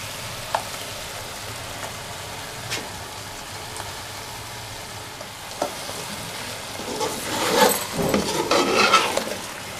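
A yogurt and spice paste hits meat in a pot, with quiet frying and occasional utensil clinks at first, then a louder burst of sizzling and stirring toward the end, close by with no voices.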